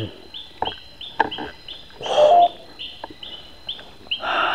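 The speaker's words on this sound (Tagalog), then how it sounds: "Ayan, bumalik na naman tong ibon na to." A bird in a bamboo grove gives a series of short, repeated high calls at a steady, regular rhythm, moderately near, with rustling and a louder burst of noise partway through.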